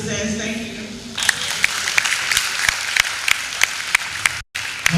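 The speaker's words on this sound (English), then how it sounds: "If you enjoyed that session, can we do a proper round of applause?" Audience at an entrepreneur summit applauding after a session, a steady round of clapping with a few sharper claps standing out, cut by a brief dropout near the end.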